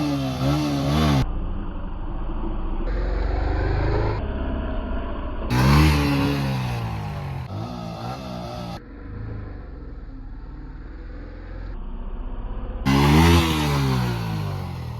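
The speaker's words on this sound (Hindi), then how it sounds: "तो गाइस आवाज़ सुनो, गर्म हो गई बाइक।" A Yamaha MT-15 V2 motorcycle engine, warmed up during wheelie practice, revs repeatedly in sharp surges that drop back to a rumbling idle, close by with no one talking.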